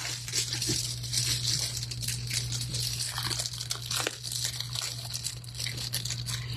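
A plastic-wrapped package is opened by hand, with steady crinkling and tearing of plastic close by throughout as the tie is cut off.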